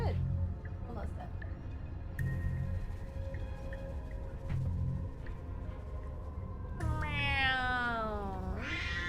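A house cat meows loudly several times, a drawn-out rising and falling cry near the end, over steady background game music and low ambient hum.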